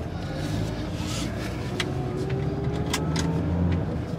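A car starts to drive off, its engine a steady low hum with a slowly rising tone, joined by a few faint clicks and rattles from inside the cabin.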